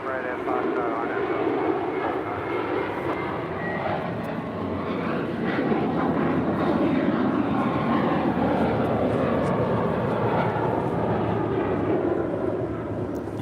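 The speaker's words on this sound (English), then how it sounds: "this is sky's the limit departing to Miami with JetBlue Airways Flight 2885 on a 5-year-old A321" A five-year-old JetBlue Airways Airbus A321 takes off from runway 25 right at LAX, bound for Miami. Its engines give a loud, sustained roar that builds and holds, with a voice talking over it.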